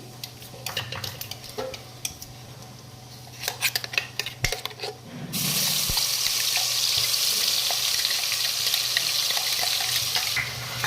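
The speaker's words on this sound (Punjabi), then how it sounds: "ਹੁਣ ਆਪਾਂ ਇਹਦੇ ਵਿੱਚ ਜੀਰਾ ਐਡ ਕਰ ਦਾਂਗੇ ਜਦੋਂ ਹੀ ਆਪਣਾ ਜੀਰਾ ਭੁੱਜ ਜਾਊਗਾ" Cumin and freshly ground masala hit hot oil in a kadai for shalgam sabji, bursting into a loud, steady sizzle after some clinks of utensils against the pan.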